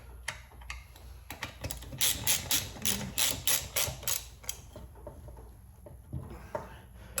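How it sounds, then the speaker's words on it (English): A ratchet tightens the wheel bolts on a 1994 Yamaha YZ250 dirt bike, giving quick, close bursts of clicking with short pauses and no talking. "And just get these tightened down. Again, crisscross pattern, right? Get her nice and tight."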